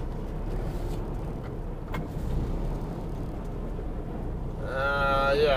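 Semi truck idling and creeping slowly over to hook up to a parked trailer, a steady low engine rumble throughout, with a faint rising whine near the end.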